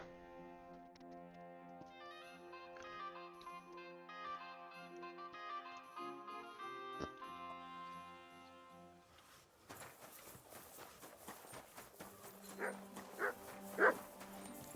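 A dog barks and yips in Kingdom Come Deliverance 2, a few short calls rising over layered game music that gives way to a busier ambient scene near the end.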